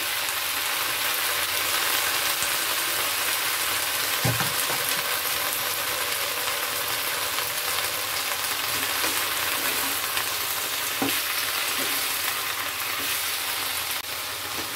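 Chopped bottle gourd leaves fry in hot oil with garlic, giving a steady, dense sizzle that runs unbroken throughout, with a few faint clicks of stirring and no talk.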